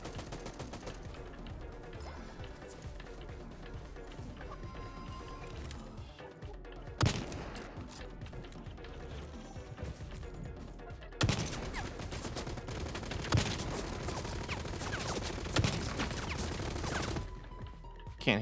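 Sustained, rapid gunfire from a sniper rifle and other weapons in the online shooter Hawked, with dense overlapping bursts and sharper cracks that grow louder in the second half.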